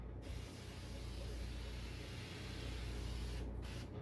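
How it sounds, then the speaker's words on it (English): A steady, continuous hiss of Duplicolor vinyl and fabric spray paint from an aerosol can onto car sun visors, held for several seconds with brief pauses at the start and near the end. "So go ahead and spray them down,"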